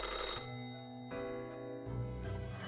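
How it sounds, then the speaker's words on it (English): An old-fashioned telephone in the game Death and Taxes rings with a loud, ear-piercing metallic clatter, sounding in repeated bursts with brief gaps between them over a steady low hum. "The old-fashioned phone suddenly rings with an ear-piercing metallic clatter."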